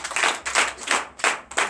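Church congregation at a Sunday worship service clapping in acclaim, a close, steady run of rhythmic group claps in even beats with no talk.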